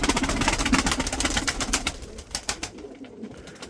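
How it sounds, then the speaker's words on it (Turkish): Mardin pigeons give low burbling coos amid busy rustling and clattering, the sound fairly loud and close at first and thinning out toward the end. "Mardin'den getirdiniz kuşları öyle mi?"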